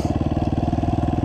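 A 65cc dirt bike engine buzzing at a steady rapid pulse, close and fairly loud, holding an even throttle through a short pass.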